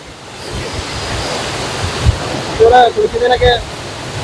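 Steady outdoor water roar at Marikuth waterfall near Thodupuzha, a broad continuous rush with wind buffeting the microphone, and a person speaking over it toward the end.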